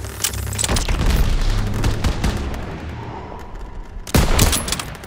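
Gunfire in Call of Duty WWII bursts out loud and close: a dense volley of rifle and machine-gun shots with heavy booms, easing off briefly before another sharp burst near the end, no talking.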